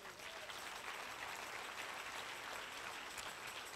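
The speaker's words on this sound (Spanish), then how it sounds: "¿Sí le va a dar el aplauso." Faint, even applause from a church congregation fills the whole stretch, distant and steady, with no clear voice on top.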